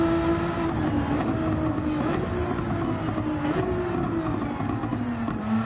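Race car engine held at full throttle in a sim racing game, a steady high-revving drone that rises and dips slightly through gear changes, loud and continuous with no talk.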